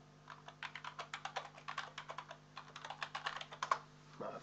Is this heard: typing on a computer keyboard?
yes